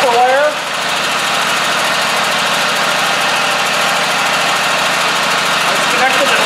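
A Scag Tiger Cat mower engine idles steadily, close and loud, with a continuous buzzing mechanical drone. Someone speaks briefly over it.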